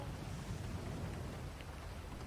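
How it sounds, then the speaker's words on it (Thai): Steady rain falling outside a house, a continuous soft hiss of drops without pause, moderately faint and with no voices. "เอาฝนตกนะ"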